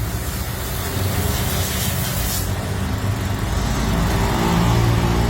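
Engine of an overheating car idling while water is poured into it, a steady, close, broadband mechanical drone and rush that swells slightly over the few seconds.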